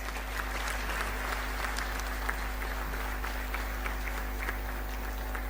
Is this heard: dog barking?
no